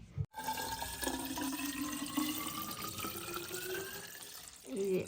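Tap water runs steadily into a water bottle at home, a continuous close splashing stream that slowly rises in pitch as the bottle fills, with a brief clunk at the start and a gurgle near the end.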